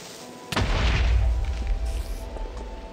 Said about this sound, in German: Guck mal, da ist im Wasser explodiert.